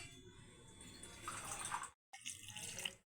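Water pours steadily into paneer kebab batter in a kitchen, a soft, close trickling stream that breaks off briefly and then runs again for a moment.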